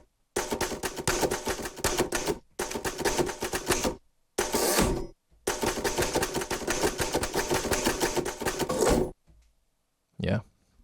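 A sampled typewriter from a sound library clatters in dense, rapid keystroke runs broken by short pauses, loud and close, ending with a single isolated strike after a moment of silence.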